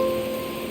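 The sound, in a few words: rain in the Tower of Fantasy video game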